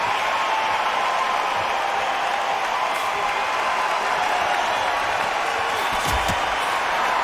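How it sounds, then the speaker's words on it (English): Virtual boxing arena crowd from a Fury vs Usyk fight game, a loud continuous murmur of cheering and applause, with a commentator speaking over it. "This crowd waiting for something special."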